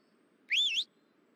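A player character whistles in the Ranch Simulator video game, a single short two-tone whistle rising and falling, clear and close over a faint low background hum.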